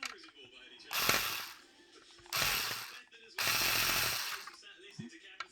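A hand tool undoes the screw on a fire alarm call point, making three close, rasping ratchet-like bursts separated by brief pauses, with faint sounds of handling in between.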